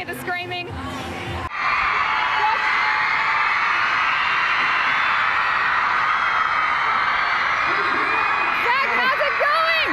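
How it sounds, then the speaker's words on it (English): A large crowd of fans screams continuously at a celebrity appearance, a loud, shrill, sustained wall of high-pitched shrieks. Voices talk nearby briefly at the start and again near the end. "Do you ever get used to the sound of this screaming?"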